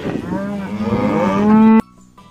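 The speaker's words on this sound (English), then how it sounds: "Black and white beautiful cow." A black and white cow moos in a cartoon animal sequence, giving one long, loud, steady low moo that stops sharply, followed by near silence.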